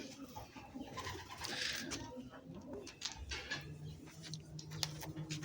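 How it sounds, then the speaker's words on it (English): Pigeons cooing at a pigeon swap meet, soft low repeated coos among birds such as tipplers, homers and owls, moderately close within a murmur of background noise. "We was at the swapping meet for the pigeons."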